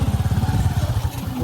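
A motorcycle engine running close by with a fast, rough puttering throb that holds steady throughout a short stretch, with no talk.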